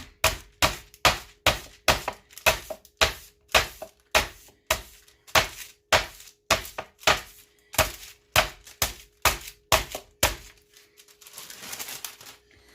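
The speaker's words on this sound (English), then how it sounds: "I'm going to cover it with a piece of parchment paper and the flat side." Pork cutlet pounded with the flat side of a meat mallet through parchment paper, for schnitzel: about thirty sharp, evenly spaced thuds in a steady rhythm, close and loud, without talk, then a short rustle of paper at the end.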